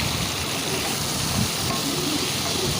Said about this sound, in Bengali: পেঁপেটাকে নাড়াচাড়া করে বেশ ভেজে নিচ্ছি